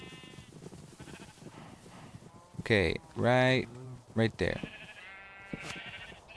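Sheep in Minecraft bleat several times in quick succession, loud and close, with a brief spoken remark before and after the calls.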